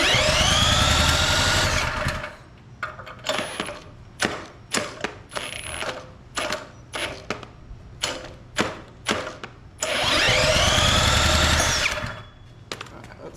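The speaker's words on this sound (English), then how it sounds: "My drill." A handheld power drill whirs loudly for two seconds, then a series of short clicks and bursts, then a second long whir that winds down.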